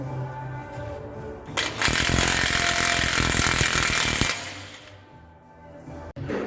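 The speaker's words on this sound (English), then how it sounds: "we'll grab a 35mm socket here to break the axle nut loose" An impact wrench with a 35mm socket hammers on a Jeep Wrangler axle nut, a loud rapid rattling burst of under three seconds between quieter shop noise.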